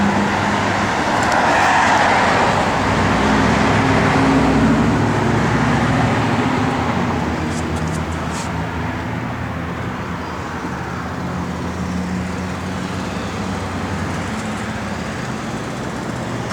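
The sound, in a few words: 1970 Plymouth Cuda engine running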